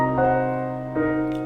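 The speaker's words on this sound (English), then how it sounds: "So this is the sound of a half diminished" A half-diminished seventh chord (minor 7 flat 5) on C rings out on a keyboard, sustained with a couple of soft re-attacks over about a second and a half.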